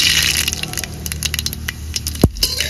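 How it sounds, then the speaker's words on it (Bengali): Mustard seeds splutter in hot oil for tempering, a close run of sharp crackling pops and spits over a low sizzle, with one louder knock near the end and no talking. "তেল ভালো করে গরম করে নিয়েছি, এখন সর্ষেগুলো ফোড়ন দিয়ে দেব"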